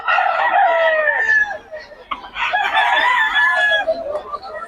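A rooster, a stag, crows twice in close succession at a market setting, each call a loud, near, wavering cry with some background noise between them.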